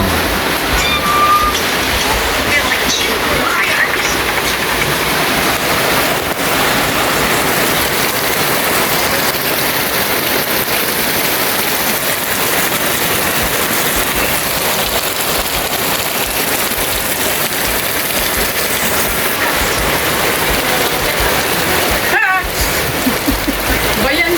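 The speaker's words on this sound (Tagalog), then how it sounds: "Buti ulan lang, no? Wala siyang hangin." Steady, even rain pours down with no wind during a typhoon in the Philippines, a dense continuous hiss and patter from start to finish, with a brief dropout near the end.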